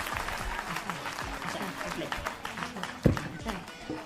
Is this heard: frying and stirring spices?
no